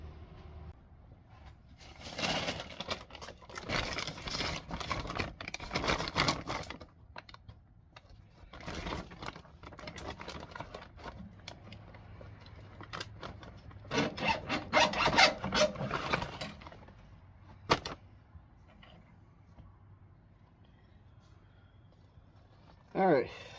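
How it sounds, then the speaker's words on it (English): Turned mulberry wood is sanded with a 2-inch sanding disc, giving bursts of whirring, rasping friction that rise and fall in uneven stretches with quiet gaps between them. "I'm just going to be sanding with the 2-inch disc."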